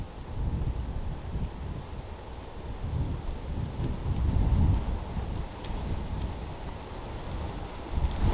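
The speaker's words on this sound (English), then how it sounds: "Just to say it's very, very gusty up here." Strong, gusty wind roars across the microphone on Bredon Hill in the Cotswolds, a continuous low buffeting rumble that swells and eases. There is no talk over it.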